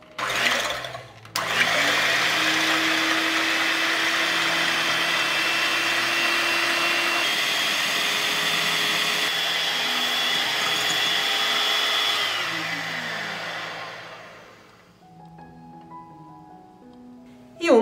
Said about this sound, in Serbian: I mikserom ću umutiti čvrsto belanca.